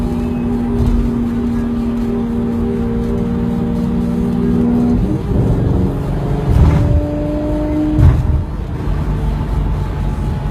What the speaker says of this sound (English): Beautiful driving car.